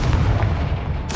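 A Confringo fire spell blasts in the Hogwarts Legacy video game: a short, heavy, booming burst with a deep rumble throughout, then a sharper crackling flare at the very end.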